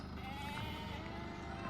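Sheep and lambs bleat on a farm while the lambs are being weaned. A drawn-out bleat rises above a steady background of the flock, and people talk nearby.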